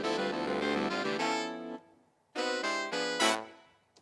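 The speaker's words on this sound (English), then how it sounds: "I added the brass just on the last note." Big band arrangement of a pop tune: saxophone section playing a sustained harmonized phrase, then a pause before punchy stabs ending on a bright brass hit on the last note, fairly quiet overall.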